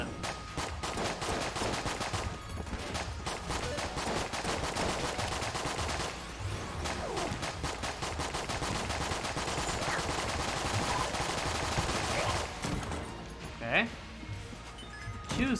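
Rapid machine-gun fire from the Patriot gun in the video game Enter the Gungeon, dense rattling bursts sustained for most of the time with brief pauses, under a player's occasional talk.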